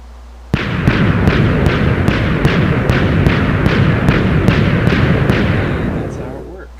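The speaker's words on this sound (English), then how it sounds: "I went ahead and just pressed the button. It's gonna go boom, boom, boom, pretty fast." A Minecraft TNT cannon fires: one sudden blast, then a rapid, steady series of about a dozen booming explosions roughly every half second, loud and rumbling throughout.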